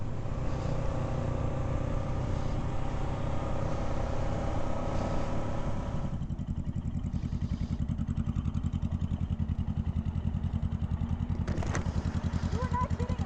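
Motorcycle engine on a test ride, a continuous close rumbling drone with a steady pulsing beat and a shift in tone partway through, as though changing gear.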